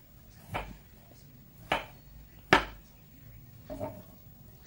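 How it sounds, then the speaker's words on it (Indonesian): A knife chops through garlic on a cutting board, four sharp distinct knocks spaced about a second apart, close and clear with a quiet background. "Setelah itu aku iris bawang putih"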